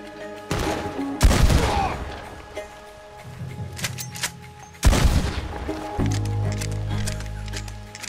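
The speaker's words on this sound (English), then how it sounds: "Long range shooting with a shotgun." Shotgun blasts in Red Dead Redemption 2, two heavy booming shots a few seconds apart, each with a rumbling tail, amid game ambience and low background noise.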